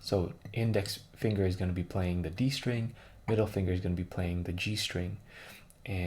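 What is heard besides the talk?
No everyday noises stand out.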